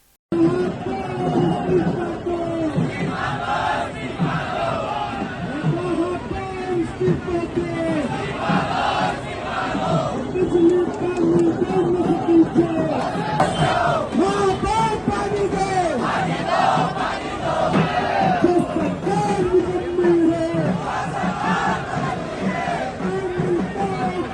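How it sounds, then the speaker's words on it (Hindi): A large street rally crowd in Indore shouts and chants together while demanding water, the massed voices loud and continuous, with rhythmic cries rising and falling throughout. "इंदौर की जनता सड़कों पर आ गई और पानी के लिए मांग करने लगी"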